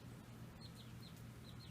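Young chicks with a backyard flock of chickens give faint, high chirping peeps several times over a steady low background hum.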